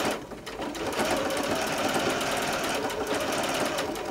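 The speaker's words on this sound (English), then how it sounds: "sewing machine is set for a straight stitch. Put your needle down in and just sew." A sewing machine runs a straight stitch along fabric piping at a steady, even pace, its quick needle hum continuing close and clear with no talking.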